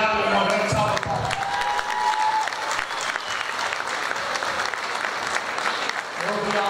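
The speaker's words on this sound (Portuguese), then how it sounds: "uma grande salva de" Audience applause at a Lira de Fátima band anniversary celebration, a steady round of clapping from a crowd with some cheering, mid-distance and continuous throughout, with a voice heard faintly at the start.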